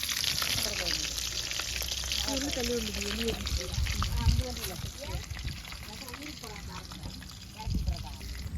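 Fish sizzle and crackle steadily in hot oil, a dense frying hiss with people talking over it.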